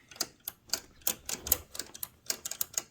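Keys struck on a 1920–1922 Helios-Klimax typewriter, a series of about a dozen crisp, uneven mechanical clacks and taps close by, with no talking.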